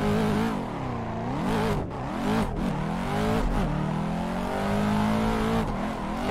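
A BMW E46 engine in a racing video game revs loudly and continuously, pitch sweeping up and down through repeated gear shifts, with brief dips between pulls and a steady close roar throughout.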